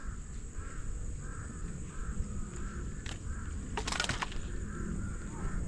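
Several crow caws from crows in banana plants repeat at a regular pace over a steady outdoor hum, with a short rustling burst partway through.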